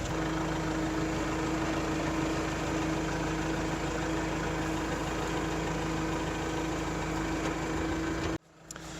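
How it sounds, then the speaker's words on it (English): A Kubota L4701 tractor engine runs steadily with a constant low droning hum and vibration, close and loud, then cuts off sharply near the end with a brief drop before resuming more quietly. "we're going to pull the tractor forward the slightest bit"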